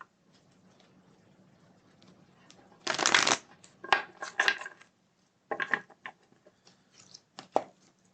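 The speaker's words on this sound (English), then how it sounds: "Let's shuffle these ones." A deck of tarot cards shuffled during a reading, several quick riffling bursts of card flutter with short pauses between, close and moderately loud over faint room hum.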